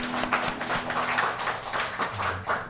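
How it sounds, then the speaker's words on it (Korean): A church congregation claps together during a Sunday morning worship service, steady overlapping hand claps filling the room at close range for a few seconds. "우리 하나님께 영광의 박수 올립시다"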